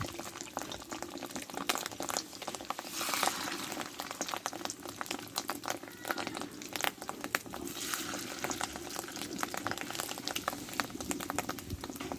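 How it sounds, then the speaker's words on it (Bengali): Small fish roe fritters fry in mustard oil in a hot kadai, a dense, steady bubbling sizzle heard up close at low volume, with no talk over it. "সর্ষের তেলটা দিয়ে দেবো দিয়ে এবার ডিমের বড়াগুলো আমি ভেজে নেব ছোট ছোট করে"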